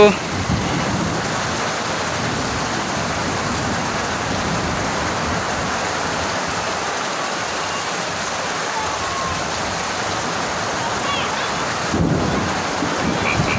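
Heavy monsoon downpour pours steadily over someone bathing outdoors, a dense continuous roar of rain with wind buffeting the microphone, loud and unbroken for the whole stretch, no talking.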